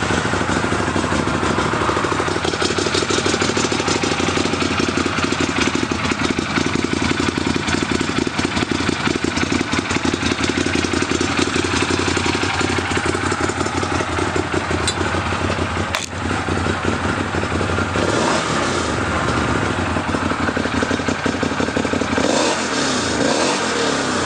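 A 2015 Arctic Cat Wildcat X side-by-side engine running and revving, a loud, close, rough roar held throughout with brief surges and dips in the revs.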